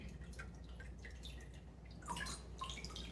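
Homemade apple scrap vinegar drips through a colander, a faint, irregular patter of small drips over a low background hum, with a slightly brighter cluster of drops toward the end.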